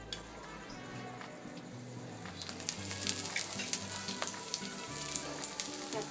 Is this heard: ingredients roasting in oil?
yes